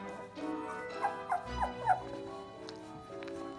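Young puppies being weaned on goat milk whimper and yip indoors, a few high, wavering cries rising in quick succession over a soft background.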